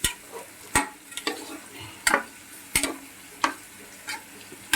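Rice and raw prawns are stirred in a pot with mint, salt and water, a ladle knocking and scraping in irregular sharp clacks over a soft background sizzle; no voices.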